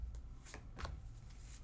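Osha Zen tarot cards are laid down one by one during a reading, giving a few soft, close papery slaps and swishes against a quiet background, with no talk.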